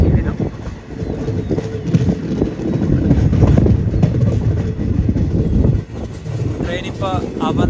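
A train rumbles steadily through the snowy Kashmir valley between Srinagar and Katra, a loud continuous rolling noise with rhythmic wheel clatter, brief squeals near the end and faint voices mixed in.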